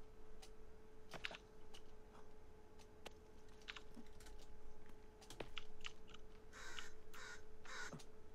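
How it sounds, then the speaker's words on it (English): Crow caws in The Forest video game, a few sharp calls scattered through the clip over a steady ambient game background with clicking, keyboard-like ticks, no talking. "Shut up, crow."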